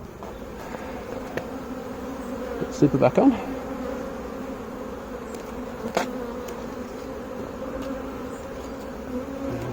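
Honey bees buzz steadily throughout a beehive inspection, a continuous low drone with a brief louder burst near the start and a short talking voice partway through.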